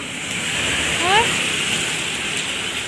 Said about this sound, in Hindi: अब मैं घर जा रही हूँ और जोरों की बारिश हो रही है